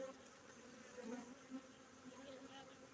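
Honey bees in an open hive with young bees and capped honey produce a faint, continuous buzzing drone, with a few individual bees swelling briefly louder as they pass close.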